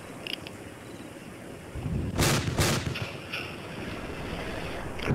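Covering fire in the Arma II combat game comes as two heavy, booming gun blasts close together in the middle, over a low rumbling battlefield background.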